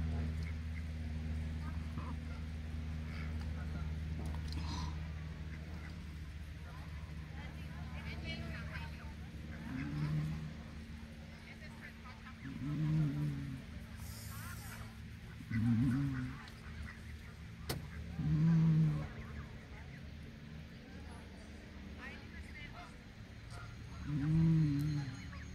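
Geese honk on a lake in short repeated bursts at a moderate distance, spaced a few seconds apart over a steady low background hum.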